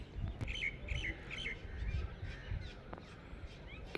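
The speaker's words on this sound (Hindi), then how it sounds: "कितनी पास है कौवा, बाप रे," A crow calls close by with a quick series of harsh caws early on, over a steady outdoor background hum.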